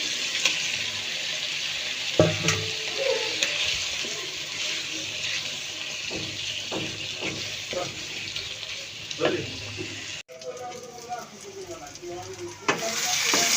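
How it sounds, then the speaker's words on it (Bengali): Marinated chicken fries in a pan of cooked-down spice paste, a close, continuous sizzle broken by scraping stirs and clunks, with a brief watery burst near the end. "মাংসটা আমি এখন নেড়ে করে দেবো"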